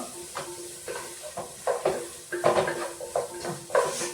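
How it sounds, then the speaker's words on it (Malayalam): Potatoes sizzle steadily in a hot pan while a utensil stirs and scrapes through them in irregular bursts, close up with no talking. "ഒന്ന് വഴറ്റി കൊടുക്കാം"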